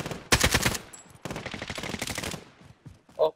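Automatic gunfire in the Warzone Mini Royale mode rattles in loud, dense bursts, heaviest early on, then continues as sustained rapid shots before tapering into a few sharp, isolated cracks near the end.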